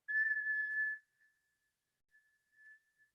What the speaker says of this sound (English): you're going to whistle with your inhale